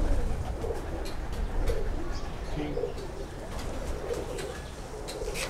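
Domestic pigeons coo softly in repeated low, throaty phrases against a busy background hum, with a few faint voices mixed in.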